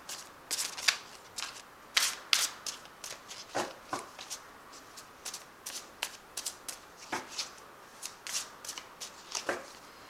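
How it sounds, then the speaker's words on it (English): Fairy Tarot cards being shuffled by hand, a steady run of crisp riffling and slapping bursts close up, with no talking. "let's draw 3 cards from the Fairy Tarot"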